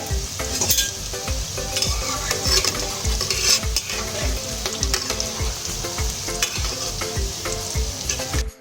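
Egg-coated chicken cutlet for chicken kobiraji frying in hot oil, a steady, close sizzle with frequent crackling pops throughout and no talk.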